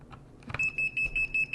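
Greenlee DM-860A digital multimeter sounding its warning for a lead in the wrong input jack: a steady high-pitched electronic beep pulsing on and off about five times in quick rhythm, close and clear, after a brief click.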